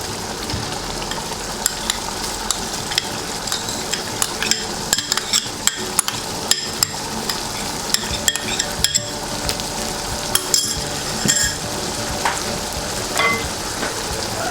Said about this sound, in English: Meat has started to boil. Now at this point, we throw in some ginger garlic